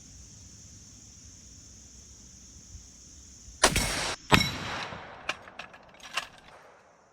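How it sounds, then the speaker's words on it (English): A single sharp blast from a Traditions NitroFire muzzleloader, quickly followed by a ringing clang off a steel target downrange, then several fainter clicks and knocks after a quiet stretch of background hiss. "We hit the steel, first shot."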